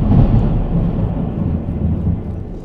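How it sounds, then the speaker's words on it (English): Thunder rumbles in the video game The Witcher, a loud continuous low roll with a rain-like wash, steady throughout and without talk. "The thunder! It is angry!"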